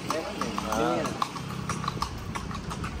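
Calesa horse in Intramuros, a male, clip-clopping with steady, close hoof strikes on pavement, the sharp knocks repeating in an even rhythm while people talk over them.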